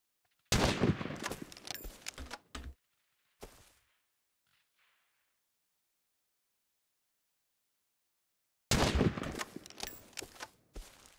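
Enemy gunfire in the Rust survival game: loud bursts of rapid shots, a long volley, then a short burst, a stretch of near silence, and another long volley at the end, with no talk.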